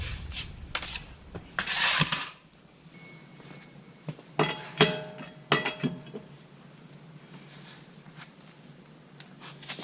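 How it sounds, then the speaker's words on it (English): Lug nuts on a car wheel being broken loose with a wrench during a disc brake and rotor job, with metallic clinks, ratcheting clicks and scraping in a few separate bursts, close and moderately loud. "So I just want to break these loose for starters"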